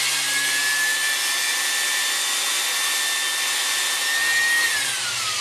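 An orbital disc sander grinds steadily against a skull mount, a loud continuous high whir with a faint whine that holds constant pitch, then drops slightly near the end.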